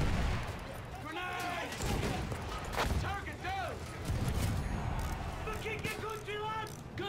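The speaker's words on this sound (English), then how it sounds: "I do not take kindly to all these people firing at me" Battlefield 1 battlefield gunfire crackles in repeated bursts and sharp bangs, mixed with engine rumble and other combat noise under someone talking.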